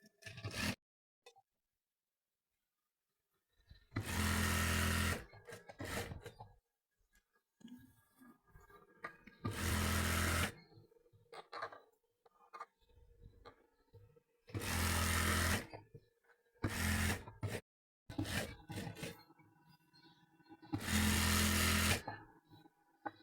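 A sewing machine stitches a kameez, running a doubled seam: four loud, close bursts of rapid mechanical whirring separated by quiet pauses and faint handling clicks.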